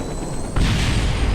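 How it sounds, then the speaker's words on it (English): Maverick missiles fire from a helicopter in the video game War of K, giving a sudden loud, low whooshing blast that begins halfway through and roars on to the end. "Let's swap to the Mavericks and fire."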